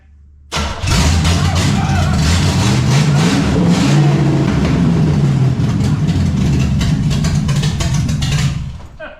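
A loud hot rod engine fires up and revs hard, roaring continuously for several seconds before easing off, with crackly exhaust throughout.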